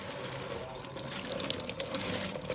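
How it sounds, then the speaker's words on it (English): Water runs steadily from a tap over a fillet knife as it is rinsed after cleaning white bass, a constant close splashing rush with no talking. "I'm going to give that a little rinse"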